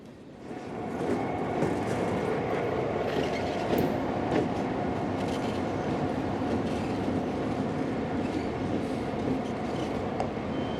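A Delaware and Raritan River Railroad train rolls through the newly built Southern Avenue crossing in Farmingdale, New Jersey, a loud, steady rumble of wagons with wheel clatter and faint squeal close by, heard alone without talk.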